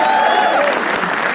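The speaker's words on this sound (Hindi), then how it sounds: "तालियां इनके लिए." Audience applause at a comedy show greets the next performer, a brief burst of crowd clapping with a faint whoop or whistle above it at the start.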